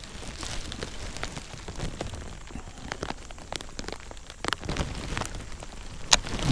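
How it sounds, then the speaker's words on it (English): Rain patters steadily during a bass fishing outing, a dense mix of close drops ticking on surfaces over a soft wash of falling rain, with a few sharper taps standing out near the end. "We're just out here in the rain."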